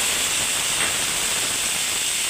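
Yogurt mixture added to a hot pan of eggplant and onion, producing a steady, loud, continuous sizzling hiss with no pauses.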